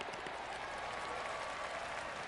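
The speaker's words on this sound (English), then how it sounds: "That deserves a golf clap." Steady, soft applause from a gallery crowd in a golf video game, a continuous patter of many hands clapping at a polite, restrained level throughout.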